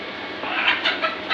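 Chickens at a poultry shop that sells both local and broiler birds give a quick burst of several clucks. The calls sound close and clear, with no talk over them.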